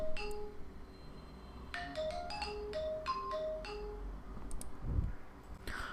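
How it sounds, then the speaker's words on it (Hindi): The IMO app's default ringtone, RT30s.OGG, plays a short run of bright electronic tones, like a melody, from a phone. It is moderately loud with no talk over it. "एक रिंगटोन आ रही है, जो कि इसकी डिफ़ॉल्ट रिंगटोन है।"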